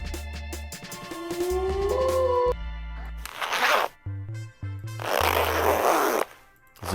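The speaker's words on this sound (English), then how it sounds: "Zippers." Zipper effects from a royalty-free sound library: several quick rasping zips in a row, then longer drawn zips with brief gaps between them, close and clear with no voices.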